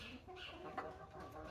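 Hens cluck softly as they settle back onto their roosts for the night in a chicken coop, a faint, continuous murmur of low calls at a distance.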